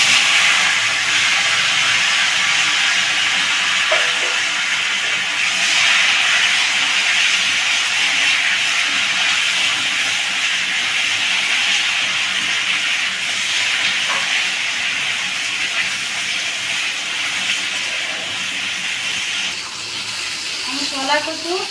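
Potatoes and taro sizzle in hot oil tempered with whole cumin and dried chilies while fish cooks in the pan: a loud, steady frying hiss that runs unbroken, with occasional small pops and crackles.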